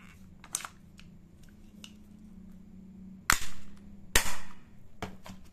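BB pellet gun with a polymer frame being racked, two sharp loud metallic clacks about a second apart as the slide locks back, close and clear over a faint steady hum, with small handling clicks before them.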